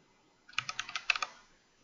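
A short burst of about eight quick clicks on a computer keyboard as a folder name is entered, close and crisp, with quiet before and after.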